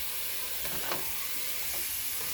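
Chopped enchilada filling cooks in a pan with a faint, even sizzle and a few soft stirring scrapes, the whole thing quiet and continuous with no talking.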